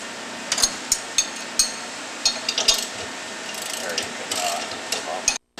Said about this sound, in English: So now that the bolts have all been loosened off evenly, we can remove the bolts.